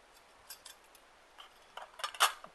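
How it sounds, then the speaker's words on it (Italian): Light metallic clinks and taps of a small steel camping cutlery set (knife, fork, spoon) being handled with a Quechua mess tin, a few soft rattles building to brighter clatters near the end, close and otherwise quiet. "un set di posate in acciaio"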